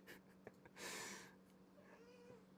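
A pet cat gives a soft, drawn-out meow close to the microphone, framed by quiet breathing and faint snuffling sounds in a hushed indoor room.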